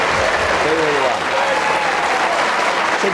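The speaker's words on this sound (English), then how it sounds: "Give him a round of applause." A studio audience on Who Wants to Be a Millionaire? in Ireland applauds loudly and steadily throughout, with a voice speaking over the clapping.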